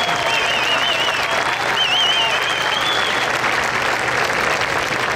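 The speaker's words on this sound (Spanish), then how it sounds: "Un fuerte aplauso, Fernando" A crowd at a town's patronal festival opening proclamation applauds Fernando, a karate champion, with dense continuous clapping, cheering and a few whistles over the top, loud and steady throughout.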